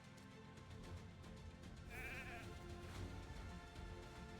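A sheep bleats twice, wavering and nasal, from a polymorph skill effect in the video game Raid: Shadow Legends, set over a low game soundtrack.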